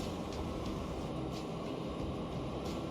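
Train rolling along in the Transport Fever 2 video game, a steady low rumble of moving rail cars with faint periodic clacks, continuous and alone.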